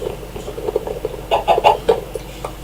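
Chickens cluck in a coop within the video game Minecraft, a run of short, close, bright clucks that bunch into a louder burst in the second half, with no talk over them.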